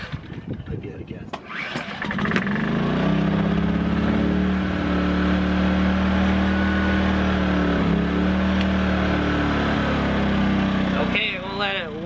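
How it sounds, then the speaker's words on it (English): A gasoline generator cranks and catches after a couple of seconds, then settles into a loud, steady running drone close by, the motor note wavering slightly before a brief change near the end. "I'm gonna fire up this generator."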